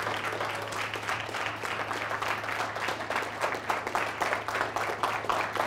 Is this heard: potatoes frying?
no